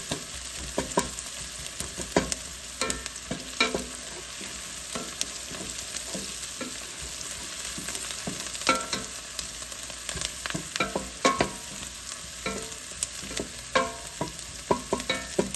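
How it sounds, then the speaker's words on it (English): Lamb pieces frying in a pan for a karahi, a steady, busy sizzle with frequent scraping and clanking of stirring throughout, close and fairly loud, with no talking. "I'm going to fry the lamb off a little."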